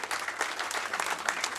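Audience at a live comedy show breaking into dense, steady applause, a wash of many hands clapping at once that holds evenly for a moment with no voice on top.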